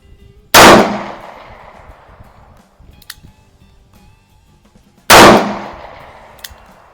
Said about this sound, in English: I'm just shooting 7 yards here, typical self-defense